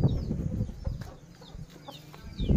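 A Lasani Aseel rooster on a farm in Sargodha clucks in short, soft bursts, with other birds chirping faintly in the background.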